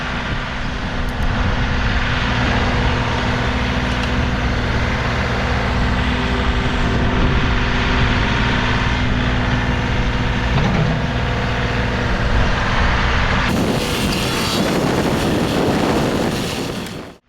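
A tractor engine drones steadily and loudly throughout while soil is moved in a tilled garden, with a broad rumble and some wind buffeting on the microphone, and no talking.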